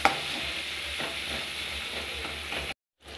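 Okra and potato curry with salt, turmeric and chilli powder is stirred as it fries in a pan: a steady hiss of sizzling with rhythmic scraping strokes, close and fairly loud, ending in a brief silence before the frying resumes.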